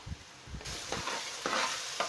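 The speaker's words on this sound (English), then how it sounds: "keep frying your tomatoes until the oil dries up" Tomatoes frying in oil in a pot for Nigerian chicken stew, a close, constant sizzle with a spoon stirring and scraping through it in several strokes, no voices.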